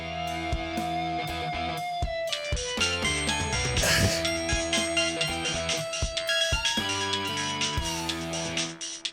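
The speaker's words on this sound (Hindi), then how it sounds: "किसका फोन आ गया?" A busy electronic ringtone melody with chiming tones plays loudly and continuously nearby.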